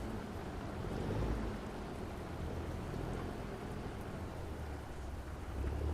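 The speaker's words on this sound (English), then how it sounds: "Also, it sounds like it's raining." Steady video-game rain in American Truck Simulator hisses continuously with a low rumble underneath, an even wash of sound with no voices.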